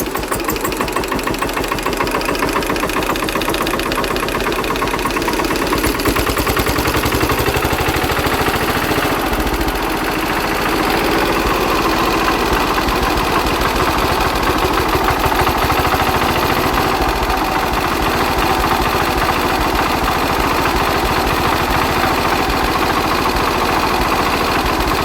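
A Hatz diesel engine converted to run on wood gas from a homemade gasifier, running steadily with a loud, continuous knocking diesel rumble throughout, its pitch shifting briefly as the throttle changes.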